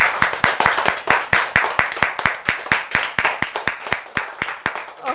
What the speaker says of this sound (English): First, clap your hands.